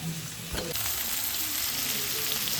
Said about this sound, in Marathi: तर अशा प्रकारे मी फोडणी घातलेली आहे.